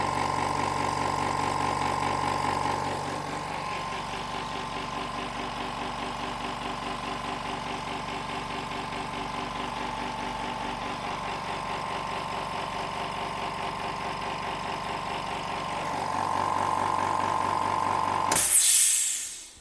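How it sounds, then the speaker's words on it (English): A silent workshop air compressor hums steadily at close range while building to its 8-bar maximum, then cuts off with a brief louder surge near the end. "The sound of the compressor shutting off feels louder than the sound of the compressor working."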